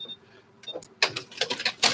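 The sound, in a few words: sewing machine stitching quilt piece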